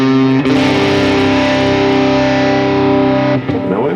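An electric guitar played through a Fender Tone Master Pro amp clone set to heavy gain, a thick, distorted sustained chord ringing loud and steady before a brief break and a new attack.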